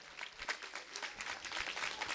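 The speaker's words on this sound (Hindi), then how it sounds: "ये ताली तो बजा दो यार तुम" Audience clapping at a Jain Panchkalyanak religious gathering in Itarsi, a fairly faint, steady patter of many hands sustained throughout without a clear pause.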